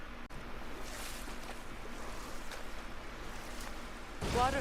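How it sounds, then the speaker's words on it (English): A rushing waterfall in the video game God of War Ragnarök roars as a continuous broad wash of water noise, steady and enveloping, with a louder swell near the end. "Waterfalls."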